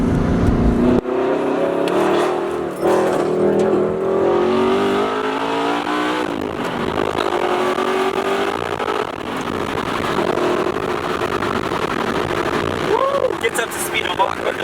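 McLaren 720S accelerating hard on the road, its engine note climbing through repeated upshifts with a sustained roar, while a person talks over it.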